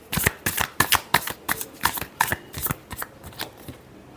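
Tarot cards are shuffled in a quick run of about a dozen crisp riffling bursts, close and clear, each a short papery flutter, with no talk over them.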